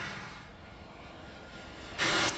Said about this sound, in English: Can you guys hear the aircraft okay?